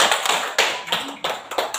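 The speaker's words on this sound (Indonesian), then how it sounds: "Tepuk tangan untuk Desi" A small group claps in short, uneven bursts, close and sharp, during a tutoring session for children with special needs; the handclaps come in quick clusters with brief gaps between them.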